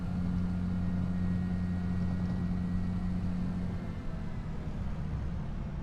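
Fendt Xylon-style tractor engine in the Farming Simulator 25 game, a steady low droning hum with strong low harmonics that holds level and eases slightly near the end, with no talking.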